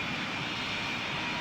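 Qatar Airways Boeing 747 jet at an airport, its engines giving a steady, fairly loud roar with a faint high whine on top, continuous and without talk.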